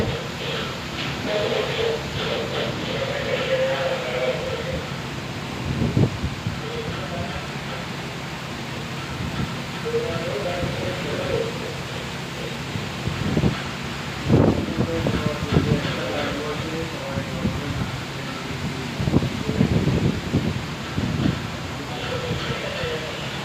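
Gusty wind and heavy rain lash the Bay of Bengal during a sudden thunderstorm, a steady broad roar with stronger bursts swelling now and then, while a voice talks over it.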